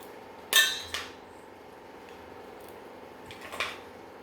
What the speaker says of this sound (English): I'm going to start just taking them off the shell here.